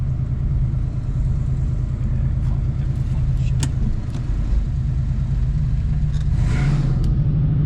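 A 1969 Chevy Nova with a swapped engine rumbles steadily up close as it sets off driving, a low constant engine drone with a few faint clicks over it.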